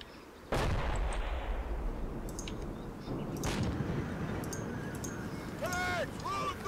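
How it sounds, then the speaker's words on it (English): Tank cannon fire during a Combat Mission Black Sea battle: a sharp, loud blast followed by a rolling boom, then further distant thuds and reports layered over rumbling background, with a few bright whistling tones near the end. "Our OP's taking tank fire."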